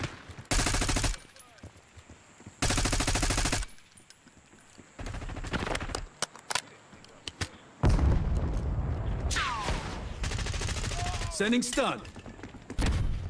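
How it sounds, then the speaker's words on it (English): Gunfire in Call of Duty Black Ops 6 multiplayer on PC: loud sustained bursts and single cracks from an enemy sniper and other weapons, with explosions and whizzing effects, and a short spoken callout in between. "Enemy sniper shooting."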